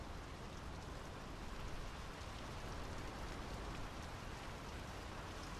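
Steady, dense rain hisses across the whole stretch in the game Draugen, an even wash of falling water with no voices and no distinct drops standing out.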